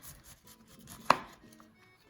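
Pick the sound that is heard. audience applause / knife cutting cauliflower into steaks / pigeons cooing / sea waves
knife cutting cauliflower into steaks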